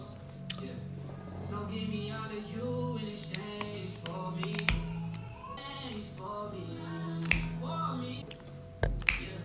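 Sharp finger snaps, a handful of isolated crisp clicks spaced irregularly over a background of music and soft voices.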